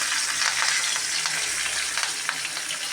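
Mustard seeds, cumin and urad dal fry in hot oil, giving a loud, dense, continuous sizzle with scattered crackles and pops and no voices.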